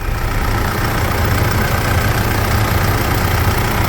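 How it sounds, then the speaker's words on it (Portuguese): A Mitsubishi Pajero Dakar engine idles steadily and close by, a constant, even rumble with no speech. "Isso é um motor, né?"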